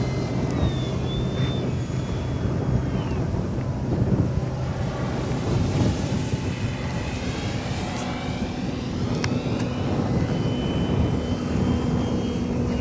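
A Draco 2.0m radio-controlled airplane making a full-speed pass, heard as a steady motor whine that rises and shifts in pitch as it goes by, with strong wind buffeting the microphone throughout.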